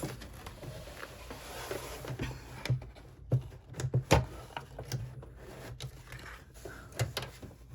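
An embroidery machine stitching around a credit card slot add-on, irregular soft mechanical thumps and clicks at a moderate pace, close by, with no talking.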